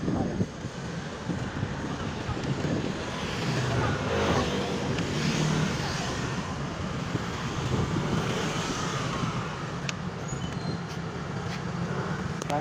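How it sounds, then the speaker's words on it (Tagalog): A vehicle drives along a road, giving a steady broadband rumble of engine and tire noise mixed with wind buffeting on the microphone, continuous and fairly loud throughout. "Ingat tayo sa pagpapatakbo ng sasakyan."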